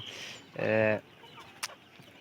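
An egg-laying hen gives a short, drawn-out cluck, nearby and fairly clear, followed by a quiet pause and a faint tap.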